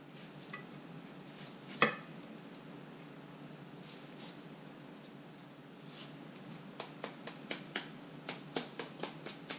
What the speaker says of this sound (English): this is how you shred up the mango